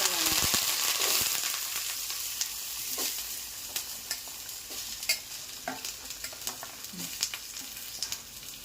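Onions and other ingredients frying in hot oil for an egg gravy, a steady close sizzle with occasional stirring clatters, no talk.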